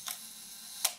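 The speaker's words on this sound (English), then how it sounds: "release the shutter" Shutter of a Rolleicord IV twin-lens camera with a Xenar 75mm lens, partly disassembled, released twice: two crisp mechanical clicks about three quarters of a second apart, close and alone over a quiet background.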